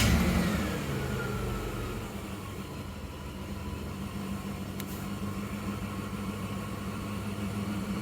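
A Mitsubishi NL Pajero engine, started on petrol before switching to gas, idles steadily with a low, even rumble that runs unbroken throughout, a little louder at the very start.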